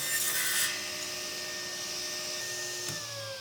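A table saw runs steadily, cutting a wooden push stick to width, with a constant close whine and hum that shifts near the end as the cut finishes.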